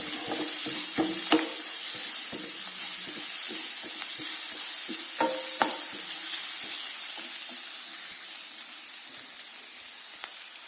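Onions sauté in a pan for Malabar chicken curry, giving a steady close sizzle with repeated scraping and tapping from a stirring spoon.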